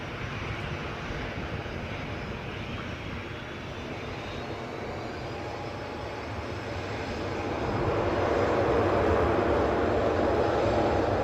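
A Jet2 Boeing 737 airliner bound for Gran Canaria inches forward while taxiing at Newcastle airport, its engines producing a steady whine and broad rumble that swell louder toward the end.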